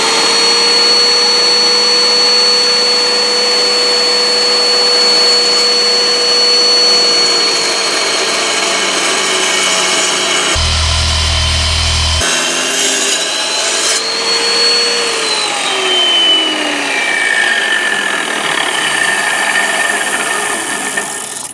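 Rock saw slicing a quarter-inch mineral specimen in a backyard lapidary setup, a steady loud grinding whine running continuously with a brief interruption midway, no talk.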